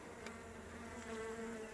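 Honeybees buzz steadily around an open hive during an inspection, a close, continuous insect drone with no voices.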